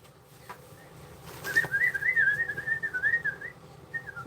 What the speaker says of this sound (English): She's doing good with her little whistling.